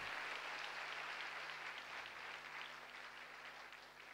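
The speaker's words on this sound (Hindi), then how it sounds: "सर के लिए एक बार जोरदार तालियां" Steady, faint applause from a seminar audience at a herbal care product training session keeps up for about four seconds, then ends on a single sharp click.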